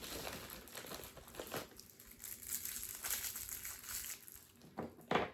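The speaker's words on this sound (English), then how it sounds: "We're just going to sit here and unwrap these." Classic mint candies being unwrapped by hand, soft close plastic wrapper crinkles in irregular bursts with a sharper rustle near the end, quiet and without talk.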